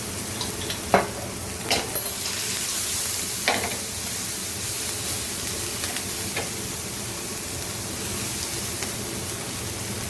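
Crushed garlic, two tablespoons, frying in heated oil: a steady soft sizzle and crackle runs throughout, with a few sharper pops and spatters early on, close and moderately quiet, no talking.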